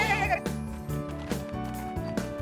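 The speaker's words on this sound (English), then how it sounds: "When I'm with O, we can ride on a goat." A goat gives a wavering bleat up front in a cheerful children's cartoon song. Bouncy backing music plays steadily underneath.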